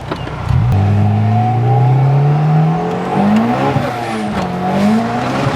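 A 330 hp turbocharged Honda DC2 Type R accelerates hard up close, its engine note climbing sharply through several rising sweeps with quick shifts between them, loud and sustained, with a brief hint of tire squeal.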